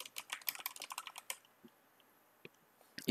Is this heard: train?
no